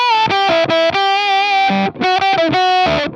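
Electric guitar on the neck pickup through a Behringer Super Fuzz SF300 octave fuzz, playing a short upper-register lead line of bright, buzzy sustained notes with brief gaps between phrases, loud and close.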